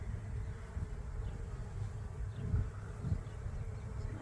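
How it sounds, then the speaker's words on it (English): Low, steady buzzing of many honey bees during a hive inspection, a dense droning hum filling the background at moderate volume, with no talking. "Lots of bees."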